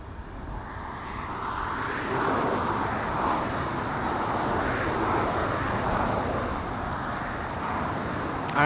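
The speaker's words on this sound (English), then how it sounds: "we have the Japan Airlines flight number 15 heading to Tokyo Haneda" A Japan Airlines Boeing 777-300 on flight 15 to Tokyo Haneda departs LAX, its engines a heavy, sustained roar that swells slightly and stays loud and near.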